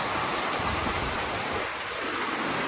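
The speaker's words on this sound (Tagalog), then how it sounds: "ang lakas ng ulan." Heavy rain pours steadily as a dense, loud, unbroken hiss that fills the whole clip, with no talking.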